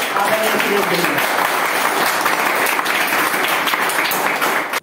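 An audience at a spirituality and youth motivation talk in Hazaribagh applauds loudly as a speaker is called up, continuous clapping that fills the space and stops abruptly at the end, with some voices mixed in.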